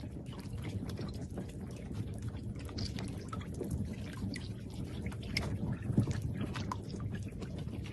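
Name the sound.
baby giant Amazon River turtles clicking underwater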